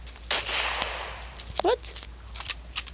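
Gunshots in the video game sfg2, a few sharp cracks and short bursts spread over a few seconds, with a player talking over them.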